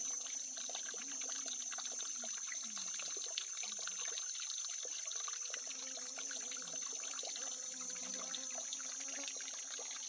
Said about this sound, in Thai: เสียงน้ำไหลตลอดจอกตลอดเลย